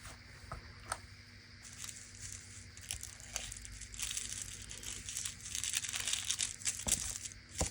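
Blouse fabric pieces are being cut out for a doll sweater and dress, giving close, soft rustling and crinkling of cloth and pattern paper, with irregular snips and handling noises throughout.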